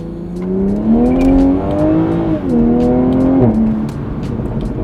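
A Toyota Supra A90 with a B58 engine and a carbon fiber intake accelerates loudly from inside the cabin, its engine drone rising and shifting, with turbo spool audible over it.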